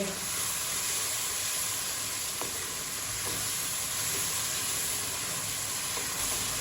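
Tomatoes fry with spices in a pan, giving a loud, continuous, close hissing sizzle with faint stirring scrapes throughout.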